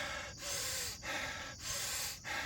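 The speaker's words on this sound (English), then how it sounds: "you take like 30 heavy breaths constantly" Heavy, rhythmic breaths in the style of the Wim Hof breathing technique, about four forceful cycles of sharp inhales and exhales in quick succession, close to the microphone with no talking.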